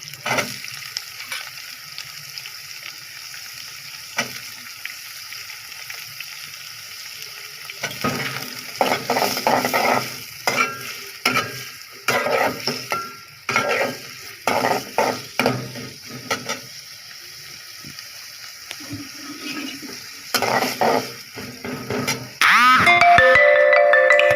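Potatoes fry in oil in a pan, giving a continuous sizzle broken by repeated scraping and clattering stirs of a spatula against the metal, close and busy, with a louder burst of sizzling at the end.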